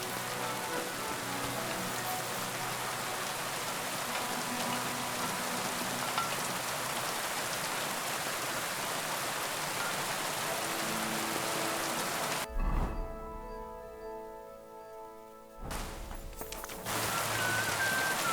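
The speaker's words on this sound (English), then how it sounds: "Pissing down rain" Heavy rain in Kingdom Come Deliverance 2 beats down in a loud, steady wash, briefly cut off and muffled near the end before returning.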